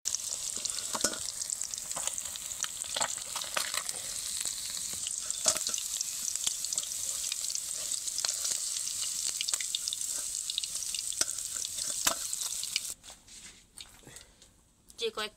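Small tengra fish frying in oil in a wok, giving a steady, dense crackling sizzle with occasional pops, close and loud, cutting out near the end into quieter scraping.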